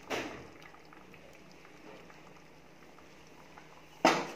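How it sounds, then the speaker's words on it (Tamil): Tomato kurma gravy simmers in a pot with a faint, steady bubbling hiss, quiet and close, framed by brief louder knocks at the start and end. "குழம்பு கொதிச்சிட்ருக்கு."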